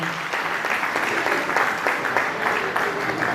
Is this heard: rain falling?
no